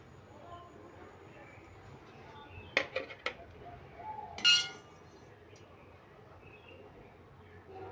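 A metal cooking pot and strainer clink and clatter as boiled cauliflower is drained, with a few sharp close knocks and a short splashy rush among quiet kitchen background.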